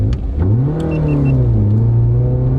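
A cheap £100 Peugeot car strains up a very steep UK hill, its mid-pitched engine droning loud and steady as it revs, the pitch climbing and then holding under load with no talk.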